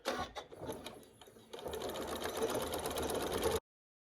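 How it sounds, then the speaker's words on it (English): A sewing machine stitches a quarter-inch seam through quilt fabric, starting with a few uneven bursts and then running in a fast, steady whir before stopping abruptly. "I'm just going to sew 1/4 of an inch down"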